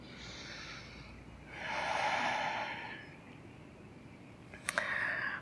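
Slow, audible breaths during a yoga practice session, a long soft exhale swelling and fading over a couple of seconds amid quiet room hiss, with a faint sniff near the end.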